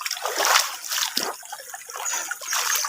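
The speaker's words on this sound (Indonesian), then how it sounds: "aliran airnya" River water in Bukit Suharto forest rushes over black rocks in a clear stream, a steady broadband splashing and trickling that swells and eases in waves, close and fairly loud with no voices.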